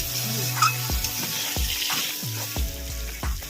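Coriander leaves sizzle in hot oil while chicken biryani cooks, a steady loud frying hiss with a few knocks of a stirring spoon.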